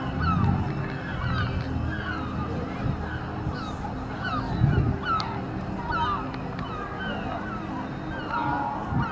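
Seabirds, likely gulls, call repeatedly at the seaside in Ostend, Belgium, with squawks and honking cries over steady surf and ambient outdoor noise, plus a faint murmur of voices in the distance.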